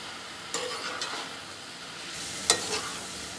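Methi greens being stirred in a pan with tomato, onion, chilli and garlic: a steady soft sizzle with scraping strokes of a spoon against the pan, one sharper clink near the end, no voices.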